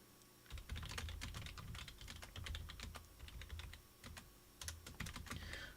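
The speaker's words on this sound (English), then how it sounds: "Okay, you can't hear me typing, but I am." Steady typing on a computer keyboard, dense rapid clicks and clacks with short pauses, close and fairly quiet, no voices.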